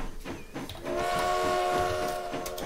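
A steam train in the video game Transport Fever 2 sounds a sustained whistle over rumbling wheels and rail clatter, fairly close and loud, with no talk.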